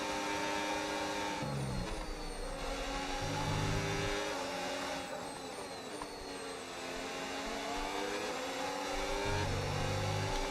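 An F1 car engine in the racing game F1 26, lapping the Hungary circuit: a loud, continuous high-pitched whine rising and falling through gear changes and revs, steady and close with no talking.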